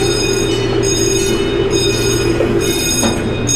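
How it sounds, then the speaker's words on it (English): The Holly Dog Express amusement park train at Holiday World rolls along its track, a continuous loud rumble with steady mechanical hum and faint wheel clatter, heard from on board without talk. "Love the train, big whistle on there."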